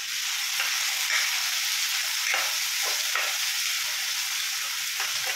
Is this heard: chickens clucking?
no